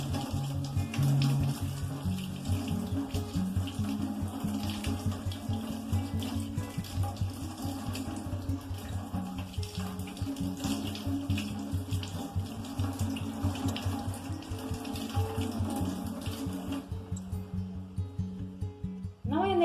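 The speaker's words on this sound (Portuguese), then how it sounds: "vou vir aqui na água corrente e vou abrindo essas folhas para que a água entre e consiga tirar a terra" Steady running tap water pours over leafy greens held under the stream while they are rinsed of soil, a constant close splashing rush that lasts throughout with small shifts as the leaves are turned.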